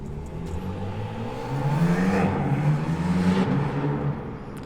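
A car engine on stock downpipes revs with a deep exhaust tone, rising and holding for a couple of seconds before easing off. It sounds fairly close, with no talking.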